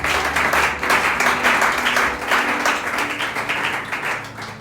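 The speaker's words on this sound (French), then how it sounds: "Tu peux acclamer pour Jésus d'abord." A church congregation applauds and cheers for Jesus in a sustained, dense wash of clapping that stays loud throughout, with a few voices mixed into the crowd.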